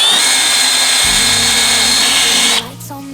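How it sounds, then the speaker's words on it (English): A drill spins a rubber eraser wheel against a 2022 Subaru WRX's painted body to strip emblem adhesive, a loud steady whine that deepens as the wheel bites, then spins down. "This is where the rubber eraser wheel comes in."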